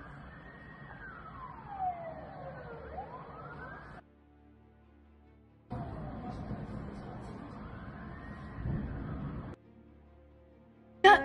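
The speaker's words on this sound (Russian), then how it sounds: "Над городом стоит вой мигалок и сирен" Emergency vehicle sirens wail over the city of Pskov during a drone attack, rising and falling in long sweeping tones with engine rumble beneath, cutting out briefly and then resuming.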